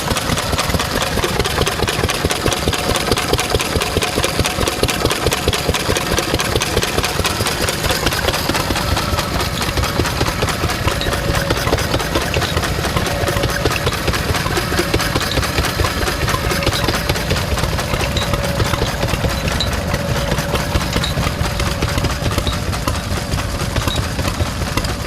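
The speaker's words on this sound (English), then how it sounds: "1952 Lister A, so a really late one, but a nice reverse rotation with the big flywheels, running double duty." A 1952 Lister A stationary engine with big flywheels, reverse rotation, runs steadily at a rally, a close, loud, continuous rhythmic chugging with a fast, even beat and no talk.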